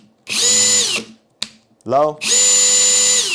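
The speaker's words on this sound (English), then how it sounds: "Just the sound of that drill and just using it over time, it does have that." A Metabo HPT Multivolt 36V half-inch hammer drill whines loudly in two long steady bursts at high speed, with a short spoken word between them.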